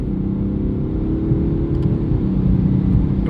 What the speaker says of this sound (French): quand on met en mode sport plus, voilà, on a les rapports qui passent vraiment beaucoup plus rapidement.